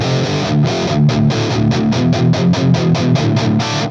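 A heavily distorted electric guitar through a Marshall-style amp chugs a rhythmic riff of repeated chords with short gaps, loud and close.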